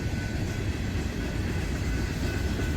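A CSX freight train rolls past on the rails, a loud, continuous rumble with steady wheel noise filling the whole stretch, close by and with no talk.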